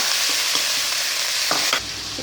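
Pork belly stir-frying in a pan with golden fried garlic, a loud, close, hissing sizzle punctuated by a few quick spatula stirs before the noise drops sharply to a lower simmer.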